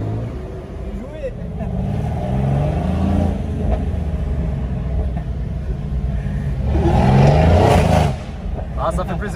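A Mercedes C63 AMG engine, tuned to 640 hp with downpipes, rumbles steadily, then revs louder for a couple of seconds near the end before easing off.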